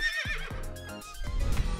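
A toy horse neighs with a bright, high whinny that slides downward, followed by soft rumbling and thumping sounds, heard alone and close.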